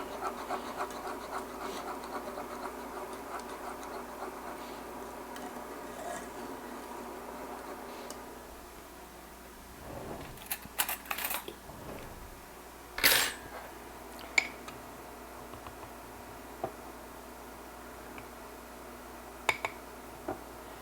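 A small amount of water and tapioca starch is stirred in a container, heard as faint scrapes and a few light clinks and taps of a utensil against the side, with quieter stretches between.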